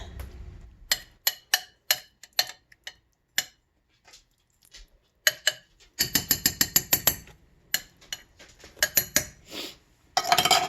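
Spoon stirring egg into a broccoli casserole mixture in a bowl, producing many sharp clinking, scraping strokes in uneven rhythm, sparse at first, then dense rapid runs, close and fairly loud.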